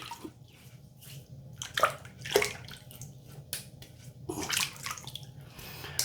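Water splashes and trickles from a running tap as hands wet a face for shaving, with irregular close splashes and drips over a steady low flow.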